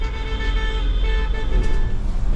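Horns toot from a Paris-area RATP bus route, heard through continuous loud engine and road rumble as the bus travels, with a steady tonal honk held above the traffic noise.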